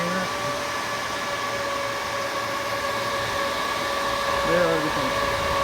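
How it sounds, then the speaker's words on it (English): Dell PowerEdge R710 rack server fans roar at initial boot in a loud, steady high-pitched whir, a constant drone with a slight rise in pitch near the end. "you guys can actually hear the R710 how loud it is for initial boot up"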